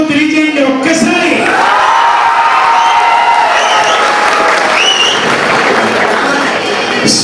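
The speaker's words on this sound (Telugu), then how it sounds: "ఉన్న మీ అభిమానాన్ని మీ చప్పట్లతో తెలియజేయండి ఒక్కసారి." A large crowd at a fan felicitation event in Warangal applauds loudly and steadily throughout, with some cheering and whoops mixed into the dense clapping.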